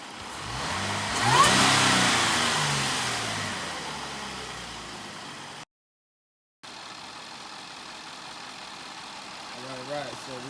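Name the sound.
2016 Jaguar XF 3.0L engine revving with Mina Gallery intake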